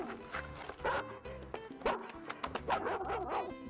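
Dogs bark and yip in short repeated bursts amid broadband clatter and mixed background sound, fairly close and moderately loud.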